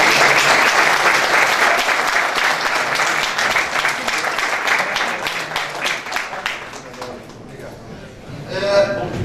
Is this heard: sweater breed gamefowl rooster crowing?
no